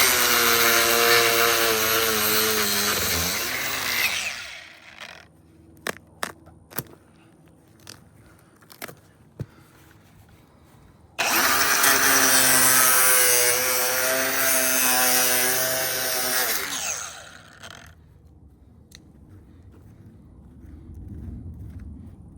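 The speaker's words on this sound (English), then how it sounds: "Back to the grinder." Grinder runs loudly while digging out pipe to replace a double check valve with a swing joint, in two long sustained whining bursts separated by a quieter stretch of scattered clicks and knocks.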